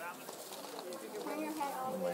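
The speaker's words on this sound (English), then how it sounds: "is a western screech owl." A western screech owl, a small fully grown owl, gives soft cooing calls close by over a steady background.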